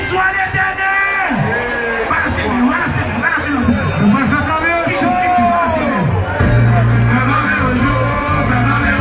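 A carnival crowd in Haiti shouts and cheers in loud, overlapping voices, whooping and bellowing close by, with a steady heavy rumble of music beneath.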